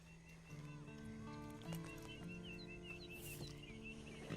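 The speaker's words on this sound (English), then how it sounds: "Then you better get on this horse." A horse in the Western video game Red Dead Redemption 2 nickers and whinnies near at hand. Steady hoof clip-clop and faint game birdsong sit beneath it against a busy ambient backdrop.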